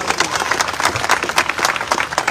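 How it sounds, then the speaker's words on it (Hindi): An audience at a large communal suhoor gathering breaks into lively applause, many hands clapping in a dense, uneven patter with crowd noise underneath. "इसके लिए तालियां होनी चाहिए।"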